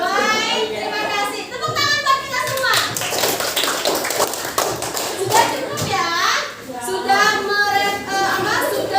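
Children in a classroom clap together in a steady patter of taps, mixed with lively kids' chatter and an adult voice speaking over the noise.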